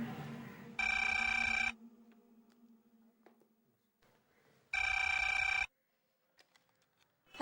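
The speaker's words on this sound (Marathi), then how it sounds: "फोन घे ग." A telephone rings loudly indoors in a Marathi TV serial scene: two long electronic ring bursts separated by a few seconds of near silence, with no talk over them.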